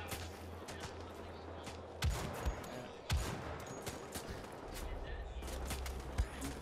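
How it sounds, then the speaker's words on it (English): A bolt-action rifle with an attachable scope fires in the shooter game Wolfenstein The Old Blood, with a few sharp, loud shots spaced apart over a steady bed of in-game ambience. "So this is the new bolt action rifle, and I've got the attachable scope right here"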